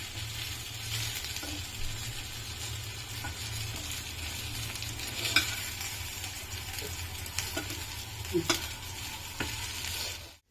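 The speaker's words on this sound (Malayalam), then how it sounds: "ഫ്രൈ ആയോ എന്ന് നമുക്ക് നോക്കാം." Brinjal (eggplant) slices frying in oil in a pan: a steady close sizzle with a low hum beneath and a few scattered clicks and stirring scrapes, no talk.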